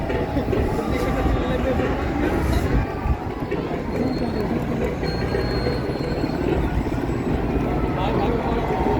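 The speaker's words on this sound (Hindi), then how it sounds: "अपाचे आ गए भाई, अपाचे।" Apache helicopters flying over a Republic Day parade, a loud steady rumbling roar of rotors and engines filling the scene, with spectators talking excitedly underneath.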